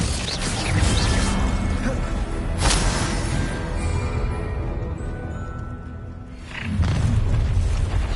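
Glacius ice spell effect in the Hogwarts Legacy video game, a loud rumbling magical blast that swells, holds, fades briefly and then surges again, with game sounds layered over it.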